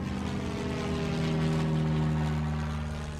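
A propeller airplane drones steadily and loudly, a continuous engine hum with a deep tonal throb, holding level before easing slightly toward the end.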